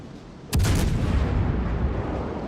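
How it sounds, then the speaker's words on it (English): A salvo from the naval guns of the HMS Fiji cruiser in a naval warfare video game booms out loud and close, one sharp blast followed by a long, heavy rumbling roar. "First salvo didn't lead him enough. Rate of fire on the Fiji is pretty good too."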